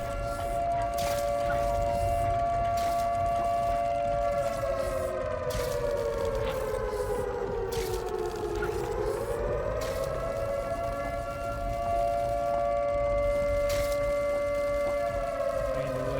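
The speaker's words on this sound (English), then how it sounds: "They're showing sirens right now." Sirens wail in the Watch Dogs Legion video game: a long, steady tone that dips and rises slowly over sustained background noise, loud and continuous throughout.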